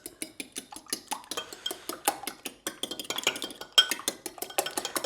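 Kayanas, the Greek tomato and egg dish, being stirred in a pan, with a steady run of close metallic scrapes and clinks of a utensil against the cookware, fairly quiet and without talk.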